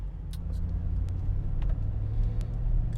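A 2019 Mercedes G63's engine rumbles steadily and close by as it drives in comfort mode, a deep continuous drone with a few brief clicks over it.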